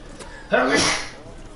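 A single sharp sneeze bursts out close by, quick intake then a loud breathy release that fades within a second.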